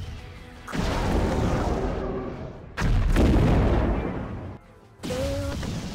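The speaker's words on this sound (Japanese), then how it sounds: "この大砲は見かけ倒しじゃないのよ。" A heavy cannon in the Abyss Horizon game fires three deep, booming blasts in quick succession, each a loud burst with a rumbling tail, separated by brief gaps, with a thin whistling tone near the end.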